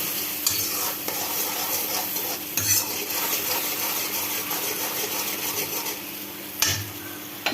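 Ground turmeric, chili and coriander fry in a pan for oats khichuri while a spoon stirs and scrapes, steady sizzling broken by several sharp metallic knocks against the pan.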